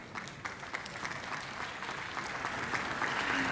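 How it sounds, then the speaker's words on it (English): Party congress audience in Valencia breaking into applause, a dense, sustained wash of clapping from a large hall that swells gradually louder toward the end. "as you are starting this applause"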